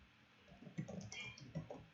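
Quick keystrokes on a computer keyboard, a short burst of close, soft clicks in an uneven rhythm, quiet and alone with no talking.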